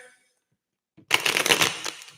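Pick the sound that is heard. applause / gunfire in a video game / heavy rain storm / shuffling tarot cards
shuffling tarot cards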